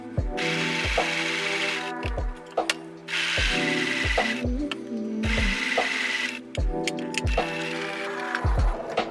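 Sewing machine running a zigzag stitch through modern belt flag fabric held taut, in repeated bursts of fast mechanical clatter separated by short pauses and clicks, close and steady with no talking.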